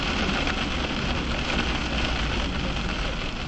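Hail pounds the road during a motorcycle ride, a dense, steady hiss of impacts that stays loud and even throughout, with no voices.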